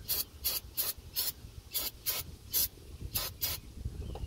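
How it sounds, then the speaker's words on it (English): Aerosol brake parts cleaner sprayed onto a 1994-2004 Mustang GT drive shaft and its threads in short, hissing bursts, about ten evenly spaced squirts close to the mic. "I'm just going to give it a rinse with brake parts cleaner."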